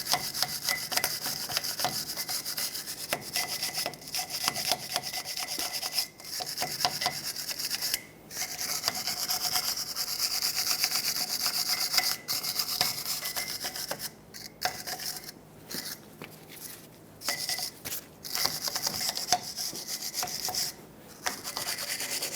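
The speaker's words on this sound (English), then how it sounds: "Just sand off the rust gently." Sanding rust off the brake rotor of a 2000-2005 Ford Excursion gives a steady scratchy rasp in back-and-forth strokes, close and continuous, broken by a few short pauses.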